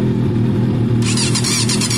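A Yamaha Fazer FZS 600cc motorcycle engine on its first start attempt with the choke on, running steadily up close, with a brighter, harsher edge coming in halfway through.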